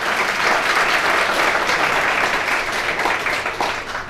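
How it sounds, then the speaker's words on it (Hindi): An audience in a hall at a book release ceremony bursts into dense, sustained applause, many hands clapping together steadily and loudly throughout. "एक बार जोरदार तालियां बनती।"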